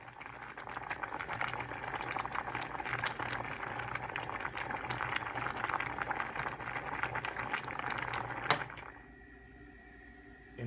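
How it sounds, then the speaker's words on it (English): Mung beans bubble steadily in a pot of water, a dense close simmering roar for about eight seconds before it cuts away to near quiet. "put in a pot with 3 cups of water, boil and then simmer for 30 minutes"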